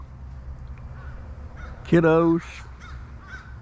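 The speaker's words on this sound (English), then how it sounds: "Shut up, crows." Crows caw outdoors, a couple of loud harsh calls close by, after a person's voice speaks briefly over a steady background hum.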